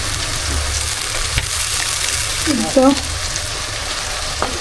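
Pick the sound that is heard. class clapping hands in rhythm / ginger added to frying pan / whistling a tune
ginger added to frying pan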